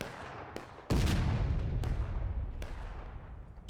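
Friendly cannon fire on the Rocky Slopes map of the War of Rights video game: a heavy booming blast with a long rumbling tail, preceded and followed by several sharper distant musket-like cracks.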